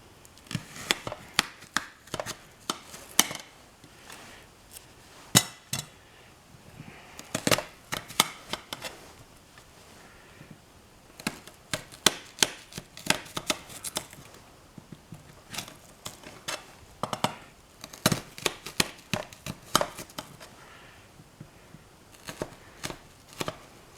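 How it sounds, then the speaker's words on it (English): Onion chopped with a knife on a board, a long run of quick, sharp close taps in irregular bursts with short pauses, with no talking. "Cut it to what you want, because onions will come apart"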